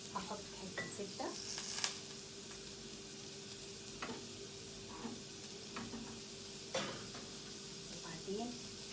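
Butter sizzling and frying in a hot pan on a home stove, a soft steady crackle with occasional sharper spits and a few light utensil clicks, fairly quiet and close.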